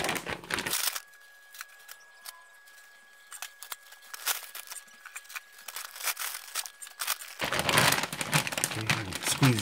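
Frozen grapes tipped and shuffled into a medium plastic vacuum storage bag, giving crinkly plastic rustling and crackling in bursts, with a quieter stretch of scattered clicks between louder handling at the start and end.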